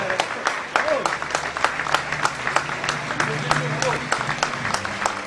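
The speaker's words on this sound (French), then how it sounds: "un grand tonnerre d'applaudissements pour Kirill" A crowd at a table tennis event applauds the player Kirill Skachkov, steady clapping with crisp individual claps standing out, while a voice talks over the applause throughout.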